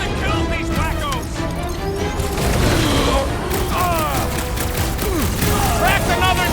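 Rapid gunfire from a sci-fi shooter video game, Marvel's Guardians of the Galaxy, loud continuous bursts mixed with booms, crashes and whooshing energy effects under a dense, busy battle soundscape.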